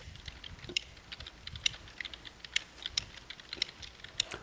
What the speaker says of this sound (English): I can hear the echo of the keys on the keyboard